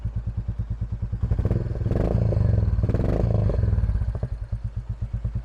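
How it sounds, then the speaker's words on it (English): A Royal Enfield Bullet 350 single-cylinder motorcycle with a military-style exhaust idles with a low, even thump. It revs up into a louder, throatier burble in two swells, then settles back to the close, rhythmic idle. "if you want that extra little bit of noise, then we've got this military style exhaust."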